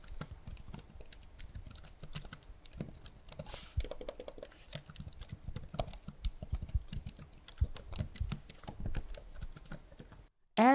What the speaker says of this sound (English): These keys are scissor switches, so they feel pretty solid with a satisfying sound and a good amount of key travel.